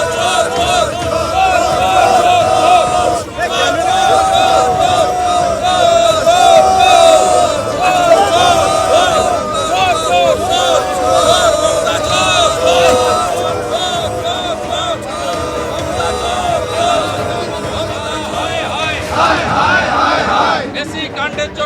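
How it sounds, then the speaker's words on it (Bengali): Outside the Bidhannagar Commissionerate, a protest crowd chants a repeated 'thief, thief' slogan in loud, sustained unison, its voices merging into a dense rhythmic roar with scattered shouts throughout. "বিধাননগর কমিশনারেটের সামনে উঠল চোর চোর স্লোগান"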